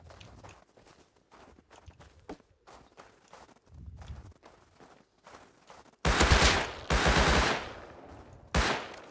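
In the video game Rust, quiet footsteps and faint clicks give way to three loud, close bursts of rapid gunfire, the first two long and back to back, the last brief.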